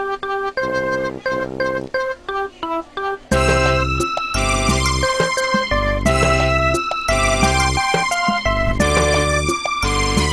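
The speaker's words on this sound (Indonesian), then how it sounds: "Dan yang Anda dengar ini adalah MIDI." MIDI tracks played back in Sonar software: a synthesized multi-instrument arrangement, sparse and stop-start at first, then a loud, dense full-band groove with steady beat and sustained chords throughout, no voices.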